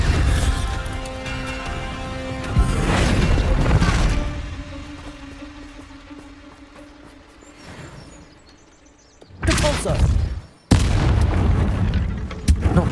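Spell blasts from Confringo and Bombarda in the game Hogwarts Legacy, loud booming explosions with a broad rumble, two heavy bursts early and a sharp pair near the end, over a droning score.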